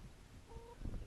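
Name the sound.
rooster clucking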